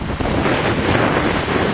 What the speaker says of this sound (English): watching these rocks and watching the waves crash into them